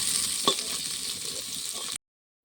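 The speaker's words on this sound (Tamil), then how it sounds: "எண்ணெய் ஊற்றிட்டேன், கடுகு கொஞ்சமாக கொடுக்குறேன்னா" Mustard seeds frying in hot oil, a close, bright crackling sizzle with a sharp pop near the start, continuing steadily for about two seconds before cutting to silence.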